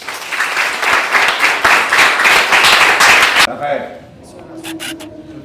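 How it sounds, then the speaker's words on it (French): Loud, dense applause from a church congregation for about three seconds, cutting off abruptly into quieter room noise with a few scattered claps. "Applaudissez pour Dieu lui-même."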